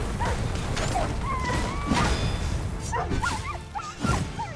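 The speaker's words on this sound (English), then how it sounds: "Man, those are some sad doggy pain sounds." Dogs yelping and whimpering in pain in the fantasy game Dragon's Dogma 2, with short pitched whines and yips repeating over a dense backdrop of combat noise and music.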